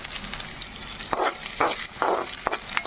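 Medium onion pieces fry in a pan while a Telugu okra tamarind stew is cooked, a steady sizzle broken by a few sharper crackles and stirring bursts, close up, with no voices.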